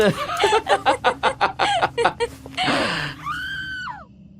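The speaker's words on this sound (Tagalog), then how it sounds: "makarinig ng malakas na sigaw ng isang babae" A woman screams loudly, preceded by a rapid series of rhythmic shrieking or cackling bursts, then one long sustained cry ending in a falling wail, close and loud.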